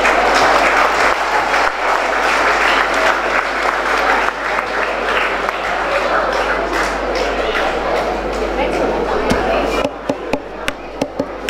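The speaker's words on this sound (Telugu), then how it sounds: "Once again clap everyone." A crowd at a cheque presentation ceremony for a foundation claps continuously in dense, loud applause that thins into a few scattered claps at the end.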